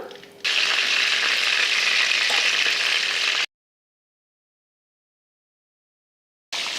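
Chicken fries in hot oil, a close, steady sizzle for about three seconds that cuts to silence and briefly resumes at the end.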